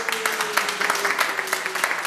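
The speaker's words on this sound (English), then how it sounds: "And then give your musicians a clap." An audience at a puppet workshop in Uganda claps for the musicians, a steady burst of many hands applauding together at close range with no talking.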